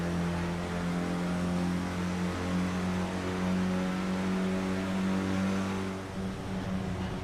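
Clio Cup race car engine in a sim racing game at Thruxton, holding a steady high drone with a brief lift and pull into sixth gear, then feathered throttle near the end, loud and close with no talk.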